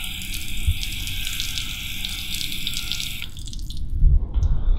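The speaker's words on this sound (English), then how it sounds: "I'm gonna add just a little bit of water to the reservoir because now I'm gonna rinse the chain." Water from a hose rinses a bicycle chain inside a Chain Pig chain cleaner, giving a steady trickling, dripping splash. Near the end it shifts to a lower, louder slosh.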